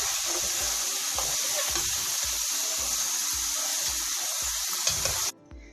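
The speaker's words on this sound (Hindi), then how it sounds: "अब इनको मैं स्ट्रेनर में निकाल लूंगी।" Fried potato chips are lifted out of hot oil into a strainer, giving a continuous loud sizzle with rhythmic scraping and stirring scoops. The sound cuts off abruptly near the end, and no one speaks.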